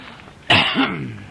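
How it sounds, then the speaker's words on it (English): A man's single hoarse cough bursts out after a moment of quiet, followed by a rough, throaty trailing sound, close to the listener. "Daddy's got a cough. He can't get rid of it."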